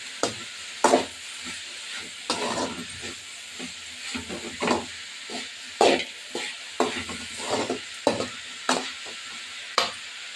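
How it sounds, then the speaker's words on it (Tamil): Vegetables for veg noodles sauté in a pan, with a steady sizzle under repeated scraping and stirring knocks at an uneven rhythm, close and moderately loud with no speech. "நல்லா வதங்கட்டும்."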